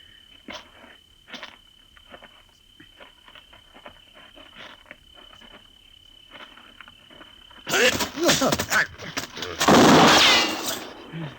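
A handgun goes off by accident as a man is struck during a scuffle, giving loud, harsh bursts of noise late in the passage after a stretch of quiet shuffling and faint scattered sounds.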